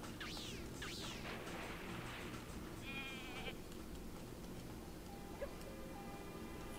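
Sheep in the video game Rocket: Robot on Wheels bleat twice at close range, wavering cries over a steady game-music and ambient bed, followed by a brief electronic chirp.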